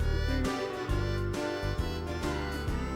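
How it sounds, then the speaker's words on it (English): Casio electronic keyboard playing one of its built-in presets: a bright synthesized melody over a steady bouncing bass and accompaniment pattern, continuous and fairly loud with no voices. "We borrowed my brother's Casio keyboard."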